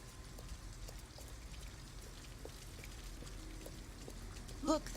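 Soft, steady rain patters on surfaces in the Detroit: Become Human video game, with scattered faint droplet ticks and a quiet, even hiss throughout.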